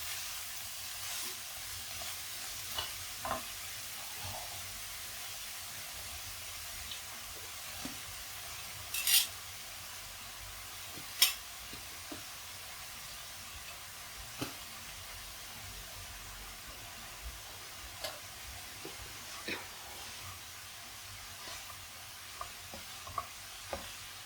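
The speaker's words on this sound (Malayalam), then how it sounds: "ഇത് എളുപ്പം അങ്ങ് കുറഞ്ഞ് വരും അതുകൊണ്ട് ഒന്ന് ഇളക്കിയിട്ട് നമുക്ക് ബാക്കി കൂടി ഇട്ട് കൊടുക്കാം" Spinach fries in a pan with a low, continuous sizzle and hiss. Scattered scrapes and taps of a spoon stirring the leaves punctuate it, with a couple of louder clatters, all fairly quiet and without speech.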